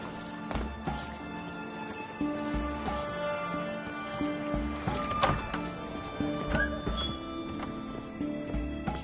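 Geralt's horse Roach in Witcher 3, hooves clip-clopping steadily with an occasional neigh, mixed under game music and ambient sound.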